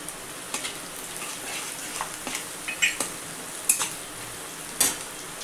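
Onion frying in a pan with turmeric added, a steady sizzle with occasional light scrapes and clinks of a utensil against the pan.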